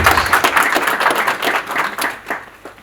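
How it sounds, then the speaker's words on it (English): Audience applause at a business launch event, loud and dense clapping from a crowd that swells and gradually thins toward the end. "resounding applause"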